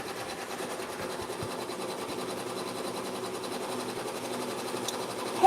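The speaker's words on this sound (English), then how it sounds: "Just working on embroidering on these bags so I can start sewing them up." An embroidery machine stitches designs onto fabric bags with a steady, fast mechanical rattle that hums evenly throughout at moderate loudness.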